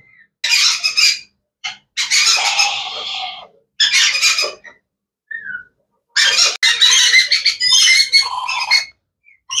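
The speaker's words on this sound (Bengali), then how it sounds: "এটা হচ্ছে গিয়া লরিকেট পাখি" A lorikeet parrot at a bird market squawks loudly and close up in harsh, raspy bursts, roughly seven calls of varying length separated by short silences.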